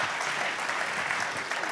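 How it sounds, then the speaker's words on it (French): Audience clapping at a French sports awards ceremony as a nominee for sportswoman of the year is named, an even, moderately loud patter of many hands sustained without a break. "Oui, on peut applaudir."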